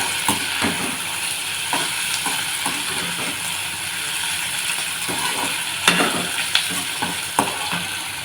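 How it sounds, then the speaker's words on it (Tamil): Onion, green chili and tomato sauté in a pan for chutney. A close, steady sizzle is punctuated by repeated scraping stirs, and there is no talk. "வெங்காயம் பச்சை மிளகாய் தக்காளியெல்லாம் நல்லா வதங்கிடுச்சு"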